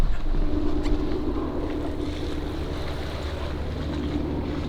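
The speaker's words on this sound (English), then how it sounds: "The like gentle washing of the waves and just the tranquility of this place is like rejuvenating my soul." Gentle ocean waves wash ashore at Kualoa Ranch in Hawaii, a steady low surge with light wind noise, continuous and moderately loud with no talking.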